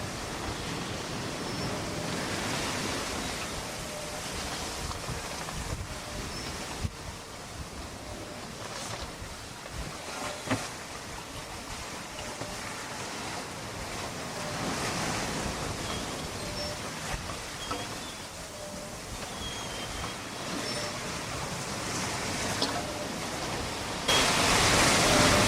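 Large ocean swells roll under a sailboat in the Southern Ocean. A continuous, broad rush of wind and water surrounds the boat, with occasional soft knocks, and no voices.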